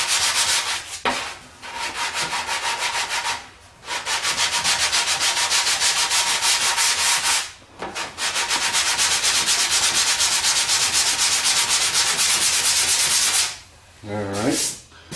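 Sanding a car body line coated with guide coat near a fender flare, long continuous loud rubbing strokes broken by a few short pauses, with a brief burst of another sound near the end.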